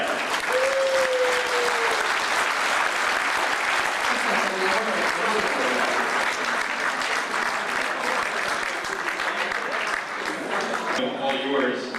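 Sustained crowd applause at a 1985 IFMAR 1/8 scale world championship prize ceremony in Tokyo, a dense, steady wash of many hands clapping at once, loud and continuous throughout, with a faint voice briefly audible early on.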